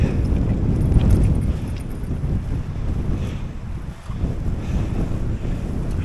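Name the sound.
wind blowing into microphone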